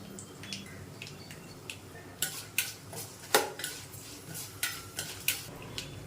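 Sliced raw mango being stirred with turmeric and spices in a pan for mango rice: a sequence of sharp utensil scrapes and clinks against the metal, spaced irregularly over a soft background hiss.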